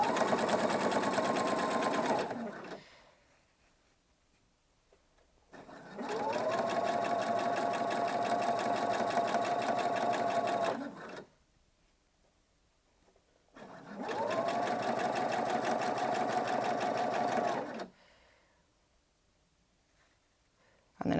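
A sewing machine fitted with a bias binder foot stitches bias binding in three separate bursts of steady, even motor whir with rapid needle ticking, each lasting several seconds and separated by quiet pauses.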